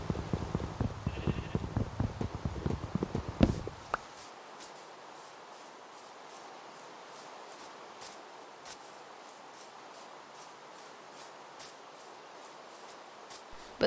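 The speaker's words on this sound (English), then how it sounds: "But then, in the distance, I saw another sheep." A Minecraft sheep bleating in the game, several quick bleats in the opening seconds, then near silence with faint scattered clicks.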